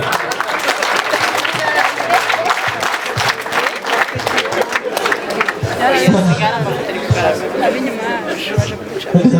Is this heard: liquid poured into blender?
no